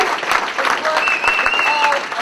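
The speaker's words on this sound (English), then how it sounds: "Give yourselves a round of applause for being in the place to be." An audience at a business gathering in Minnesota gives a loud round of applause, dense clapping with a few whoops and cheers carrying over it.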